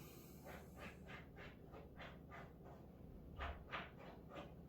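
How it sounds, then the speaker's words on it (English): Dogs pant rapidly and rhythmically as they climb into bed indoors, a soft, faint run of quick breathy pulses at close range. "As my dogs are getting in bed."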